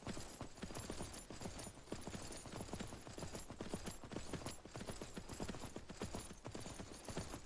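Horse hooves galloping in the survival game Myth of Empires: a rapid, steady clip-clop of hoofbeats running continuously and evenly throughout, fairly close and loud, with no talking over it.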